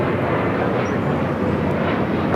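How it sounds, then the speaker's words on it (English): A Frontier Airbus A321neo jet arrives at LAX on the north side, its engines producing a steady, loud broadband roar that holds evenly throughout without a break. "The Frontier flight just arriving on the north side is coming in from San Jose, California. Brand new A321 Neo."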